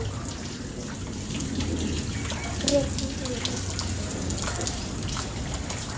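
Steady, dense hiss of heavy rain pouring close by, a continuous wash of water with a brief louder splash midway.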